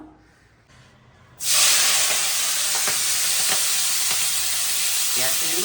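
Potatoes frying with spring onion stalks in hot oil, a loud steady sizzle that bursts in suddenly after a quiet start, with scattered pops and crackles running through it.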